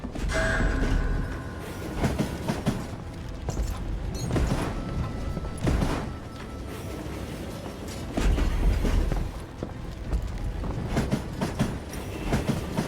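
A moving train in the Western video game Call of Juarez: Gunslinger, heard as a steady, loud rumble of wheels and cars with a rhythmic clatter and occasional bursts that swell and fade, with no talking.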